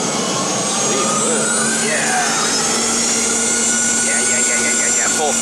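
Inside the cabin of a Hawaiian Airlines Boeing 717 on takeoff from Kona, the jet engines run at full throttle. They make a loud, steady roar with rising whines and tones, and voices talk faintly underneath.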